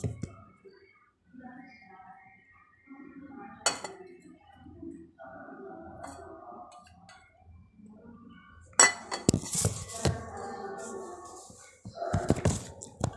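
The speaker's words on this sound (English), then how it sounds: "then we add 1 spoon of powdered sugar, and then we need to mix it." A spoon stirs coffee and powdered sugar in a cup, giving light clinks that are faint and sparse at first, then louder and busier near the end, with soft voices in the background.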